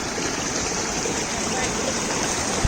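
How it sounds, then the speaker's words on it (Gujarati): Stream water rushing steadily at Medha Waterfall in a forest near Songadh, a dense, constant broadband wash close by with no pauses, one faint knock near the end. "અહીંથી પાણી જઈ રહ્યું છે।"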